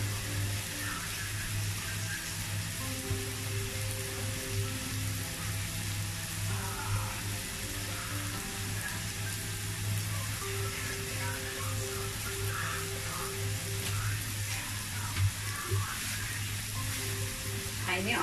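Egg fries with bitter melon in a pan, giving a soft, steady sizzle under a low hum, fairly faint and continuous, with a light tap or two.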